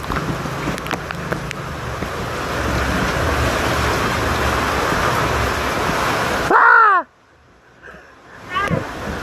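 Sea waves wash near a boat as a typhoon approaches, a steady broad rush of surf and wind that breaks off into near silence before surging again.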